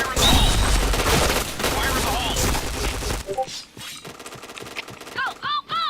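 Heavy automatic gunfire and explosive bursts in the video game Point Blank fill the first three seconds, followed by scattered lighter shots and game effects with speech mixed in.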